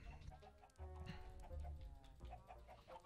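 Chickens cluck in the block-building survival game Minecraft, several short fowl calls close together over a steady game background, fairly quiet overall.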